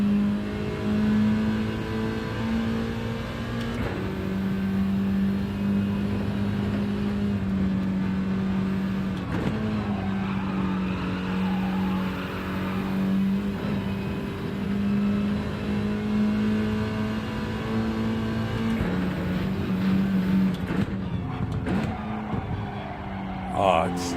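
A race car engine drones steadily in a racing video game, a sustained loud revving hum throughout with someone talking over it.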